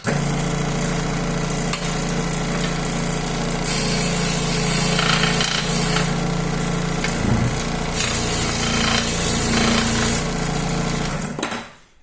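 Scroll saw fitted with a sanding attachment running at maximum speed, a loud, continuous buzzing rattle with rising and falling edges, stopping abruptly at the end.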